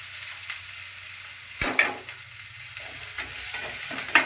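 Spice tempering (vaghar) for a gram curry sizzling in hot oil, a steady frying hiss with a few sharp crackling bursts as the seasoning hits the pan, close and clear with no talking.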